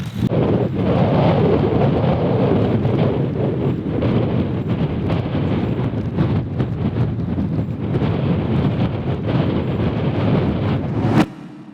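Strong wind buffets the microphone at a slope-soaring site for RC gliders, a loud continuous rumbling roar with gusting surges that cuts off sharply near the end.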